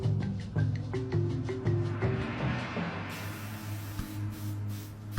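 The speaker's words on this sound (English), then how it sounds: "They sprayed grandfather's room and his body with chlorine to destroy the Ebola germs." Chlorine disinfectant is sprayed through a room to kill Ebola germs. A steady, loud hiss starts partway through and continues to the end, rising over a low tonal background.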